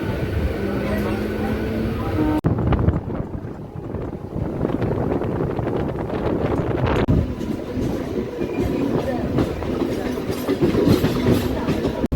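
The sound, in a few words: local train running on the line toward Digha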